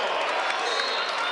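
A home Bronco basketball crowd at a Western Michigan game roars in a dense, steady wash of cheering and applause, loud and unbroken.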